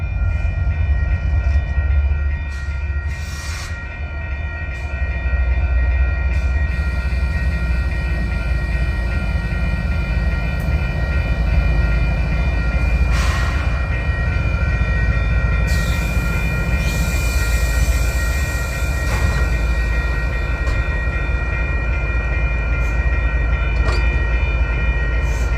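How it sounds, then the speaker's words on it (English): A Union Pacific train rolls past in St Paul, a loud continuous rumble of wheels and cars on the rails with occasional squeals and clanks, holding close and steady throughout. "Union Pacific is the leading locomotive."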